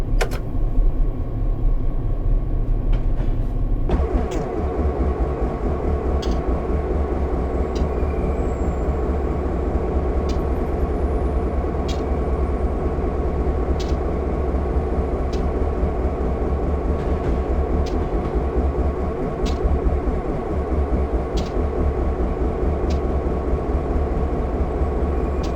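Train running through a rail interlocking near the Everett Amtrak station, heard from on board as a steady loud rumble with repeated clicks and clacks of wheels over switch points and rail joints, no voices.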